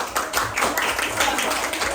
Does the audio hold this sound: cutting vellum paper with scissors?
no